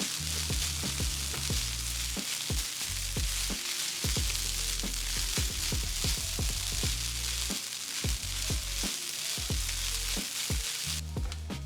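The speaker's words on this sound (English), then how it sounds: "spread the rice across the pan and leave it from time to time so it develops a bit of a crust at the bottom" Kimchi fried rice spread across a pan, crisping into a crust, hissing steadily with a soft crackle and occasional stir scrapes, close and even, no talking.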